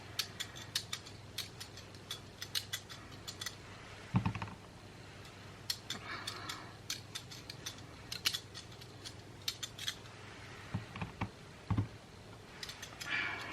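Knife or blade trimming the edges of a block of handmade Aleppo soap, a run of crisp scraping clicks and cuts, close and moderately quiet, with a couple of duller thumps, no talk.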